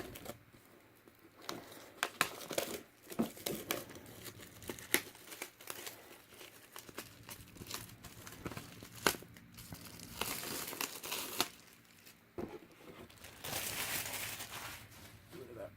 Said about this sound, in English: Rid of that plastic.